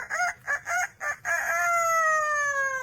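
A pet parrot mimics a rooster's cock-a-doodle-doo: four short clipped syllables followed by a long, steady, drawn-out crow, loud and close with no other sound.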